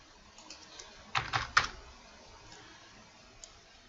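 Quick keystrokes on a computer keyboard during a SolidWorks sheet-metal drafting session, a close cluster of clicks around the middle with a few scattered single taps before and after, no talking.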